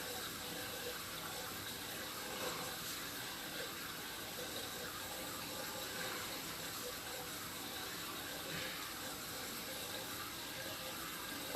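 Water running steadily along the bottom of a backed-up, offset sewer pipe during an inspection in Berlin, NH, a faint continuous wash and trickle heard alone throughout.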